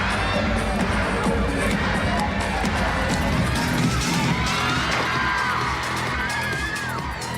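A crowd of Japanese fans cheers and screams steadily at a concert, a loud, dense roar with high shrieks and whoops rising above it.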